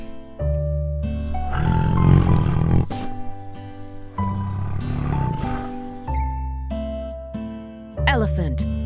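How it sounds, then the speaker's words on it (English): A tiger lets out loud, rough roars in two bursts. Steady musical tones play under and between them. "Tiger."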